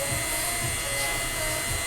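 A steady, loud mechanical whirring hum with a high hiss, continuous and unchanging throughout, as a DTF printer runs a print head cleaning cycle.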